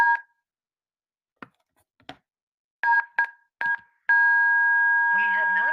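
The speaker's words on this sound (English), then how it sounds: "Let me dial it." Touch-tone phone keys are pressed one at a time, giving several short, loud beeps at an uneven pace that end in a long steady tone, with faint background noise.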